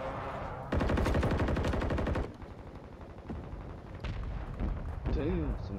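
Gunfire in Call of Duty during ranked online play: a rapid automatic burst of shots, then scattered further shots and blasts, mixed with game sounds.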